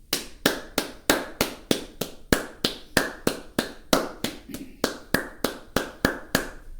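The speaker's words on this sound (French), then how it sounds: "je vais moi-même me permettre d'applaudir" One person claps hands alone, about twenty sharp, close claps in a steady, even rhythm with brief quiet gaps between them.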